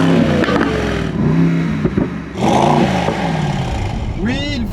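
A 2022 Mercedes SL63 AMG convertible drives on a cold road, its engine droning steadily and swelling in revs, with someone talking over it throughout.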